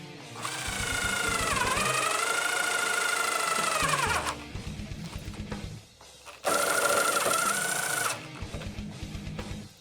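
A DeWALT DCF888 cordless impact driver sinking a self-tapping truss-head screw in two bursts: a loud, close, rising whine with rapid hammering, a brief stop, then a second run to the end.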